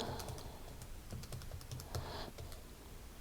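Numbers tapped into a calculator, a quick run of light, close clicky keypresses in an irregular rhythm, with no talk.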